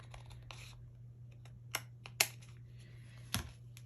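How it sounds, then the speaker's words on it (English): A small papercraft piece for a Christmas crafting challenge gets a light trim, giving three or four faint, sharp snipping clicks spaced irregularly over a quiet room hum, with no talking. "This one's a little bit off, so just gonna give that a little trim up."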